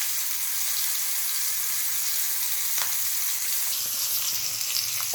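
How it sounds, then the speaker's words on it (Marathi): Mandeli fish fry in hot oil, a constant close crackling sizzle with a few sharper pops and spatters, steady and unbroken with no talking. "ह्या तळून घेऊ"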